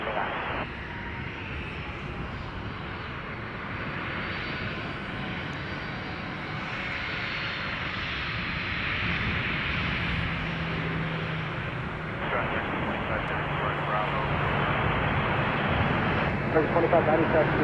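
A jet airliner departs from the south side of Chicago O'Hare airport in a steady, loud, broad engine roar that builds slightly over time, with voices talking over it.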